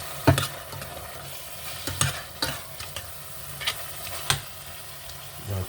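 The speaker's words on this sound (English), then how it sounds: "Be sure these plantain don't over fry, don't fry too much." Plantain slices frying in a pan of oil for Jamaican cooking, a steady low sizzle punctuated by several sharp clacks and scrapes of a utensil stirring and turning the pieces, close and clear with no talking.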